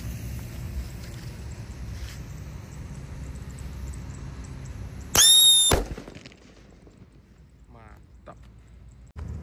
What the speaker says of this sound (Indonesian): Kalau ini ada mercon King Thunder guys.